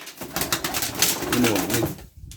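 Young pigeons coo in a close, dense stream of throaty cooing and rustling, loud and continuous before it stops abruptly near the end.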